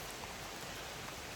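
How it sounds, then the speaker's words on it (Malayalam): Light drizzle falls in a thick forest near Janaki Kaadu, Kuttiady, a soft steady patter and hiss of fine rain on leaves, continuous and even throughout with no voices. "നല്ല പൊടിഞ്ഞ മഴ"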